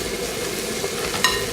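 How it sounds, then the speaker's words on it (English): Venison meat sizzles steadily in a very hot skillet, a dense, close frying hiss with faint crackles and no talking. "When your skillet is super hot, put your meat right down on it, and you should hear that sizzle sound"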